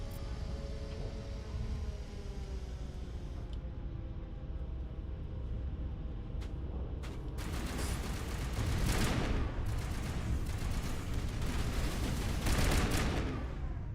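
Gunfire in the Mass Effect video game, starting with a low electronic hum and a few isolated cracks, then building into dense rapid bursts of shots over the second half, loud and continuous.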